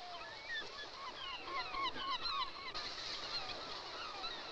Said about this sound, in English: These are razorbill auks.